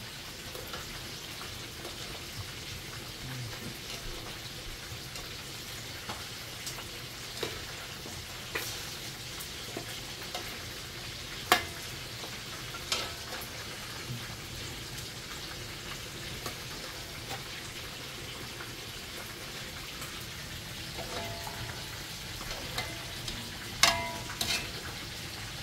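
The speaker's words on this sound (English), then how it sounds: "A spoon to drop the water on here. I'm basting it, guys." A pork shoulder pot roast sizzles steadily in a pot while it is basted with a spoon, giving a continuous close frying hiss broken by occasional small clinks and splashes. No one speaks.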